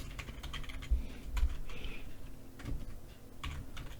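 Quick, light keystrokes tapping on a computer keyboard as a password is entered, close and fairly soft, in irregular bursts.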